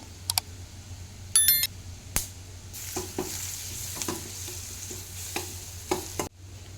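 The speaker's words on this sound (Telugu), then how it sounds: "ఇవి బ్రౌన్ కలర్ వచ్చేంత వరకు ఫ్రై చేసేసుకోవాలి ఉల్లిపాయ ముక్కలు ఫ్రై అయినాయి కదా ఇప్పుడు ఇందులో పసుపు వేస్తున్నాను" Chopped onions frying in a pan with turmeric and ginger-garlic paste for egg curry, with a soft steady sizzle, intermittent stirring scrapes and clinks, and a few sharp beeps near the start.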